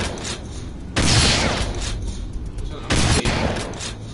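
Gunfire in the video game Red Faction: two loud, sustained bursts of heavy shooting, each lasting well over a second, separated by a noisy lull, close and dominant, with some talking mixed in.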